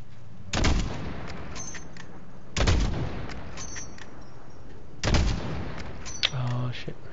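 Heavy gunfire in Call of Duty: Modern Warfare, with three loud, booming bursts spaced about two seconds apart, each trailing off, over a quieter battlefield background.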